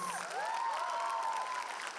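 A studio audience at an interview with an Indian film actor claps in a full, steady round of applause, with whistles and a few cheers rising over the clapping.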